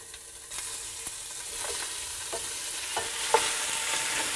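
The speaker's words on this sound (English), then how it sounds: "Now that that coconut oil is all melted, it's time to add in your diced lamb." Diced lamb sizzles in melted coconut oil in a hot pan for a paleo curried lamb hotpot, a steady broadband crackle with scattered stirring clicks and taps, fairly close and with no talking.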